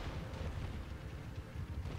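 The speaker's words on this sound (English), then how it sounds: "stray cannon shot went through and killed" Cannon fire on an Empire Total War battlefield: a continuous rolling rumble of artillery with overlapping low booms, held at a steady moderate loudness.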